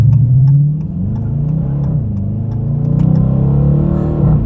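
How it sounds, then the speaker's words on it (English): A 2020 Dodge Challenger R/T engine in sport mode, exhaust open, revs loudly and close, its exhaust note rising and falling through several throttle blips before settling into a strong, steady drone. "when you turn it to the sport mode, that's when it gets really fun"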